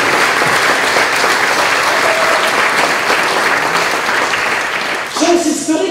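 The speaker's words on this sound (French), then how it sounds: "je pense qu'on peut les applaudir" An audience claps through a political speech at a party summer university, with loud, sustained applause that tails off near the end as a voice begins speaking.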